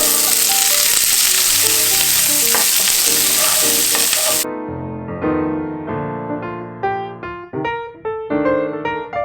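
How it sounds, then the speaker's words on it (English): An onion frying in a hot, smoking pan with cheese makes a loud, dense sizzle during the first half, over steady background music that carries on alone afterward. "Now I'm gonna put in the onion because we're starting to smoke here."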